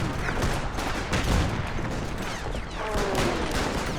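Dense, continuous gunfire and massed rifle fusillades in the WW1 video game Between Empires, a loud, crackling barrage of overlapping shots filling the whole stretch with no pauses.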